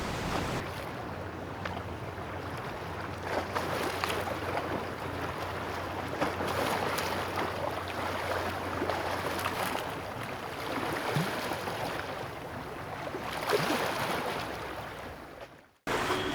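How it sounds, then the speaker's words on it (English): Water is sloshed against an expandable flood barrier, giving a continuous close wash of splashing and surging waves with rough swells, ending in a sudden cutoff; no voices. "Now let's wave the water inside and see."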